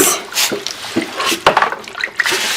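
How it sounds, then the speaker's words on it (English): Water poured over plantains being washed in a village kitchen, with irregular splashes and drips landing in bursts, close and fairly loud. "I'm pouring the water"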